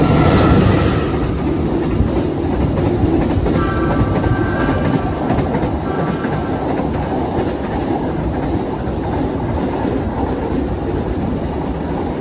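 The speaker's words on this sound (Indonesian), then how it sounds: "Ada kereta yang melintas langsung sepertinya." A train passes through a station without stopping, rumbling steadily at close range, a dense continuous roar with rail clatter and a brief faint squeal, no voices.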